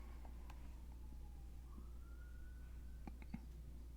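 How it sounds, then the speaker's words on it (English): A police siren wails faintly in the distance, a thin rising and falling tone far behind a steady low hum, with a few soft clicks near the end. "I don't know how audible the police siren was in the background there, but I could hear it."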